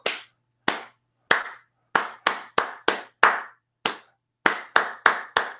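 Single pair of hands clapping in a circular motion, about thirteen crisp, resonant claps with clear gaps, irregular at first and then quicker, close and isolated with no talk.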